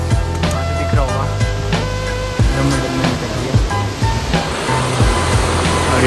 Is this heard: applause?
no